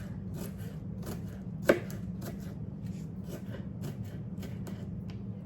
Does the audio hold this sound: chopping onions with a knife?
yes